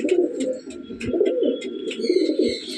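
Teddy pigeons in a breeding loft coo in close, repeated low throaty rolls, with light chirps and rustles overlapping and no talking.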